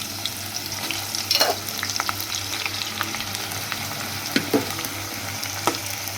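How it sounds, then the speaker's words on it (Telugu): Onions fry in hot oil in a kadai for chicken biryani, giving a steady close sizzle and crackle with a few louder stirring clinks and spits; no one speaks. "బాగా గోల్డెన్ కలర్ వచ్చిందాక మగ్గనిద్దాం."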